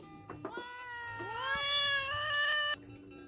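A cat gives a long, loud, drawn-out meow while being fed, a rising wail that swells and holds before cutting off, with shorter calls just before it and no one speaking.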